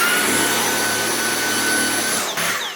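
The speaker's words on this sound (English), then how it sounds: "So here is my new Hoover." A new Hoover vacuum cleaner runs loud and steady close by, a constant motor whine and airy roar throughout, with a brief dip near the end.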